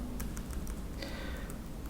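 Computer keyboard typing, a quick patter of light key clicks in short bursts, close and fairly soft against a low steady background hum.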